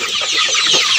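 Broiler chickens on a poultry farm clucking together in a brief, steady burst, a close flock chorus with no voices.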